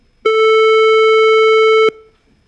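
A synthetic guitar tone run through hyperbolic tangent distortion in Python sounds as one steady, bright, buzzy note rich in harmonics, held for about a second and a half with a clean start and stop.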